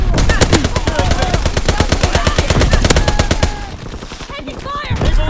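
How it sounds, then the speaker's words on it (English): Rapid machine-gun and rifle fire from a World War II shooter game, a dense run of loud, evenly spaced bursts that thins after a few seconds into scattered shots amid game effects. "Taking fire!"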